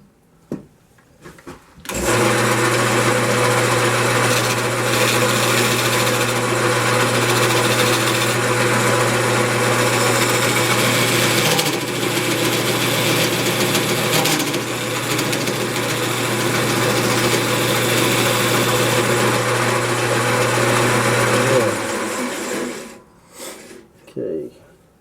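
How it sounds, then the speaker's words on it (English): Wood lathe turning a spalted walnut tenon with a skew chisel, a loud steady motor hum with a broadband cutting hiss over it for about twenty seconds before spinning down. "let me just square up the tenon real good. I'll use the skew for that."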